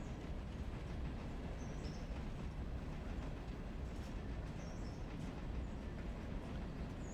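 A locomotive runs in the railroad video game Railroader, a steady dense rumble and hiss of engine and rolling stock that holds even throughout, with faint higher tonal chirps and no voices.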